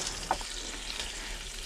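Lunch frying in a pan and being stirred inside a camper van, a steady close sizzle with a couple of brief scraping stir clicks near the start, no voices.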